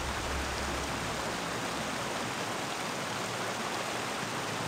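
Waterfall in the Baldur's Gate video game, a steady, even rush of falling water heard as constant broadband noise throughout, with no voices.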